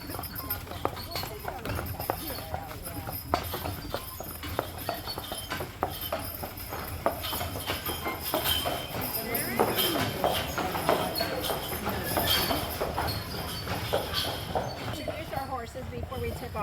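Horse hooves clip-clop at a steady walking pace on a park path, a team of two horses, moderately close, with faint crowd chatter and voices murmuring underneath throughout.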